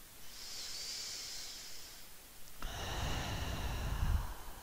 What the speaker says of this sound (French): Quelques respirations ici.